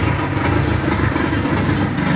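A turbocharged VW Parati car engine runs with a loud, steady, close-up roar and dense mechanical noise throughout, with no pauses or speech.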